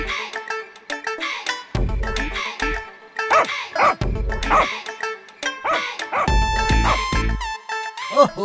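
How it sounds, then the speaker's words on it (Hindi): A puppy yelps and barks repeatedly at night in short, shrill bursts with whimpering cries in between, loud and close throughout. "अरे वो कुत्ते का पिल्ला क्यों चिल्ला रहा है?"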